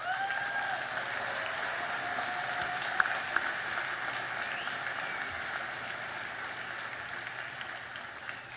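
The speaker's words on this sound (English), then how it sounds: "let's have the first round of applause congratulating the class of 2026" Sustained applause from a graduation ceremony audience congratulating the class of 2026, a dense steady wash of clapping that holds at an even level for the whole stretch with no talk over it.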